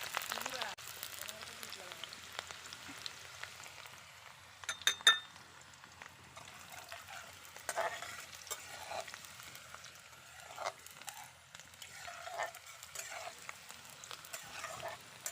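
Onions fry in hot oil in a pan, a quiet crackling sizzle mixed with frequent light clinks of a utensil against the pan and some stirring, with a voice speaking faintly at times.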